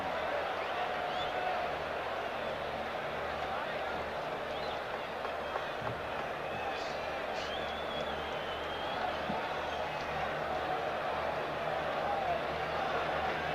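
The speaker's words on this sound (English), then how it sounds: "Can hear the buzz in the crowd." A baseball stadium crowd on opening day in 1985 gives off a constant broad murmur and buzz, steady and diffuse, with a voice talking over it.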